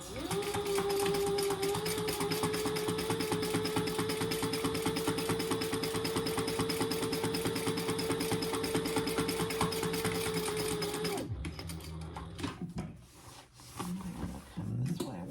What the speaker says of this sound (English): Stitch, back stitch a couple times, and then go down right next to it.